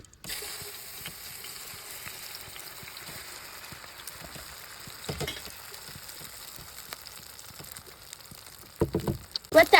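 An egg and brinjal mixture sizzling in hot soybean oil in a wok, a steady crackling hiss with scattered pops, growing busier and louder near the end.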